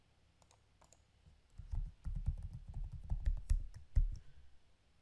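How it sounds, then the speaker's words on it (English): An email and password typed on a computer keyboard, a quiet start of isolated clicks building into a dense, quick patter of soft keystrokes, close and alone. "Type the email and password."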